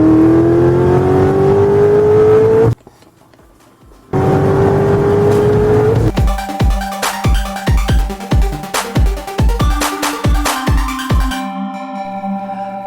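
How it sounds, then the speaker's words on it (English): A Mercedes-AMG Benz with an aftermarket exhaust runs loud and close, its engine revving and droning, dropping briefly to near quiet, then settling into a rough, pulsing idle with throbbing exhaust beats. "You can notice the vehicle is also quite noisy. That's because this thing has an exhaust."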